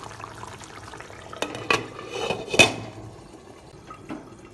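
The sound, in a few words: gently stirring poached eggs in curry gravy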